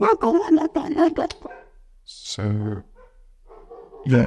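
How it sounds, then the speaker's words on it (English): Several dogs bark and whimper in the background, showing up as short bursts between and after a man's speech, fairly close but softer than the voice. "you can hear my dogs in the background."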